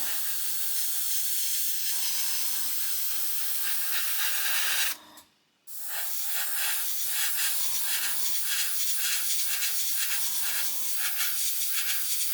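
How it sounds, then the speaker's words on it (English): Airbrush spray painting an Airfix 1/72 scale Vulcan model, a steady hiss of close spraying in repeated bursts with a brief pause near the middle, with no talking. "So I think I've done enough spraying on camera now."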